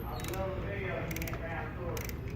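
A ratchet clicks in short bursts while bolts are tightened on a vehicle engine during an oil clearance check, a dry metallic pawl chatter repeated about three times at close range, with low background noise.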